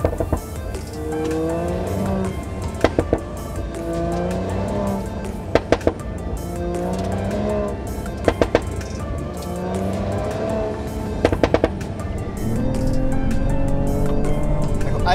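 Exhaust from a Mercedes-AMG GLE 53 4MATIC coupé with a six-cylinder engine crackles and pops on lift-off, sharp clustered bursts repeating every few seconds over steady engine drone and rising revs.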